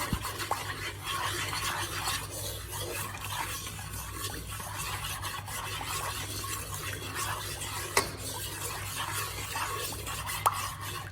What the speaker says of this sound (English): Okay, we're gonna stir this bad boy up.